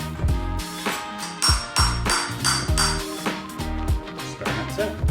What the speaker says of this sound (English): now I'm gonna set the star nut with this star nut setter.